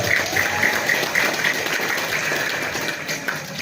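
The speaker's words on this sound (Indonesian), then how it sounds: "Tepuk tangan heula keur para panitia ya karang tarema" Mosque audience at a Maulid Nabi gathering applauding the event committee, a steady wash of clapping that thins slightly toward the end, with a faint tonal hum running through it.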